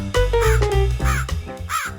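A crow cawing in a Hindi animated bedtime story, several loud, harsh caws close together and near the listener, with no voice over them.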